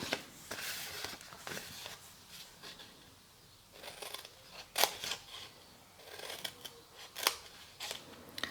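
Scissors snipping through folded paper for a long handmade box, a series of close, crisp cuts spaced irregularly, moderately loud with light paper rustle between them and no talking.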